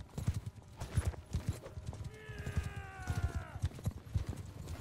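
Horse hooves clip-clopping at a steady gallop in the medieval battle game Mount & Blade II: Bannerlord, a rapid drumming rhythm throughout with a brief whinny partway in.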